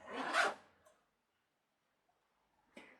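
A zipper pulled on a flat-bottomed fabric pouch: one quick, close rasping zip at the start, a short pause of quiet, then a brief second zip near the end.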